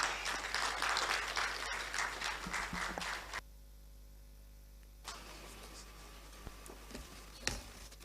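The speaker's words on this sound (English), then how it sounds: "Please, a round of applause." An audience applauding the Dean of the Faculty of Law at a GIMPA law alumni launch, dense steady clapping in a hall for about three seconds, then cutting off to a quiet room hum.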